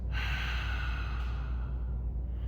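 One long, relaxed, wide-mouthed exhale, breathy and close, like fogging up a mirror, lasting about two seconds and fading at the end.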